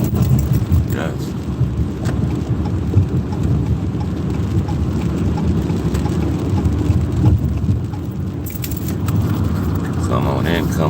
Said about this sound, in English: It's raining outside, but the sun is still shining